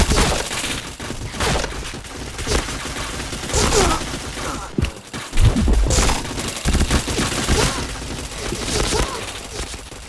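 Rapid bursts of video game gunfire crackle loudly in close, uneven volleys, with a short lull midway before the shooting resumes.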